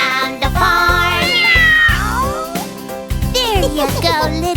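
Cat meows ring out repeatedly, sung in a children's farm song about a kitty on a tractor, riding over steady music with a bass beat; could be a voice imitating the meow rather than a real cat.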